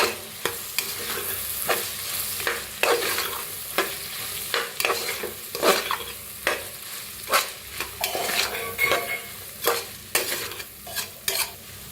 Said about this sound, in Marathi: आता हळद घेतल्या, भाजून घेऊया.